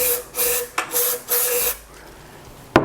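Throttle body cleaner is sprayed from an aerosol can in several short, close hissing bursts, separated by brief pauses, followed by quieter handling noise and a final sharp click.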